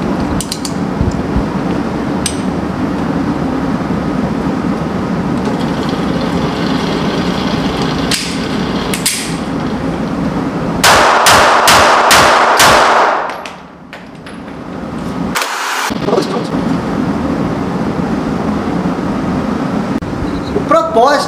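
A CZ P-10 M pistol is fired with reloaded ammunition, giving several sharp, loud shots. A quick burst of close shots comes near the middle, with people talking and background noise throughout.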